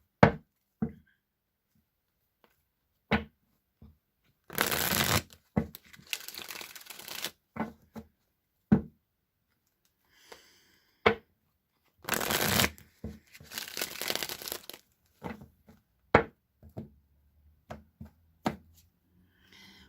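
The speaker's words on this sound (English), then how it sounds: "Now I'm going to shuffle the Rider-Waite tarot" Rider-Waite tarot cards shuffled by hand in two longer riffling bursts, with sharp taps and knocks of the deck scattered between them, close and fairly loud with no talking.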